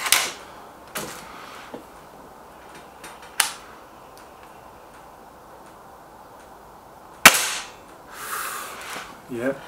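Air rifle shots from a Gamo Whisper X or a Hatsan 900X sound as a few sharp, isolated cracks spread several seconds apart. One is notably louder near the end, against a quiet outdoor background.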